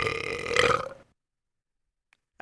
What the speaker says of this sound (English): Okay, there was a burp.